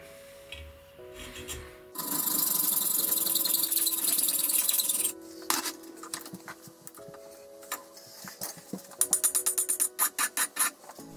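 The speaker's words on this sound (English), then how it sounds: "Then we cut a thread in it." Metal tapping noises as a thread is cut into a drilled hole in metal: a long harsh rasping scrape, then scattered clicks and a run of sharp rhythmic ticks near the end.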